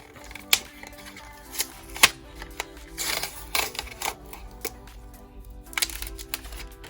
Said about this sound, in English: let's peel the tape off